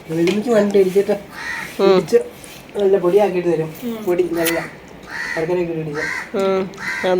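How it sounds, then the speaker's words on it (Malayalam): A crow caws repeatedly in short harsh bursts, loud and close, in an irregular series alongside a person speaking briefly. "കാക്ക വന്നിരുന്നോണ്ട് കരയുന്നുണ്ട് കേട്ടോ"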